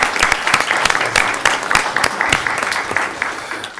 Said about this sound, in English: I think it's appropriate if we give them a round of applause